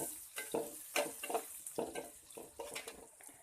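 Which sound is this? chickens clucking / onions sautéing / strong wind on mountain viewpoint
onions sautéing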